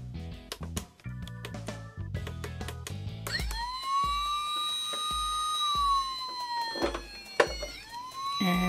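Playmobil toy rescue ambulance with lights and sounds on top: a small electronic siren wails in rising and falling sweeps, close and steady, after a few brief tinny beeps and clicks.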